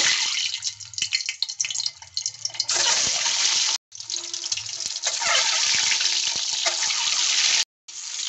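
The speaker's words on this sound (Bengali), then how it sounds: "কড়াইতে তেল গরম হয়ে গেছে। আমি ডিমগুলো একটু ফ্রাই করে নেব।" Eggs fry with a little turmeric in hot oil in a wok, making a loud, steady crackling sizzle that cuts out briefly twice.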